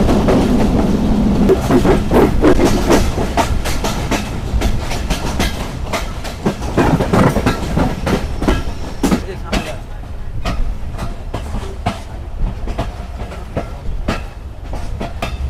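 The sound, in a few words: Banglabandha Express train running on the rails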